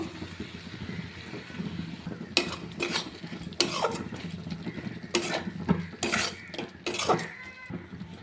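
Ground turmeric, cumin, coriander and chilli powder with salt being stirred and fried in a pan for mushroom curry, with a spoon scraping and clinking against the pan in repeated bursts over a low background sizzle.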